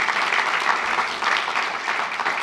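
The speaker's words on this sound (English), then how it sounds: "If I could get a round of applause for all of them." Steady audience applause for conference sponsors at an internet registry meeting, a thick continuous wash of clapping from a large crowd, loud and even throughout.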